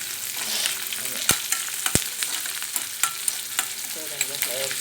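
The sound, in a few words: ginger and green chillies frying in hot oil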